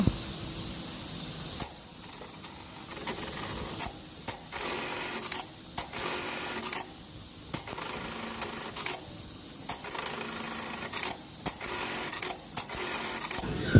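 Sewing machine running a cycle stitch program with the pedal pressed, likely a KE430HS model, giving a steady mechanical hum punctuated by brief pauses and restarts throughout, close and alone.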